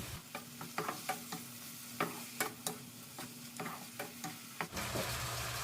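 Pork menudo seasoned with salt, pepper and soy sauce being stirred in a pan, with repeated sharp scrapes and clinks of the utensil over a steady low sizzle, close and fairly loud.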